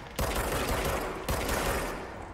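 Sustained bursts of gunfire from shooting in the video game Control, dense and loud, with two sharp onsets where a fresh volley kicks in over continuous rapid fire.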